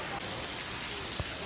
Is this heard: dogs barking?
no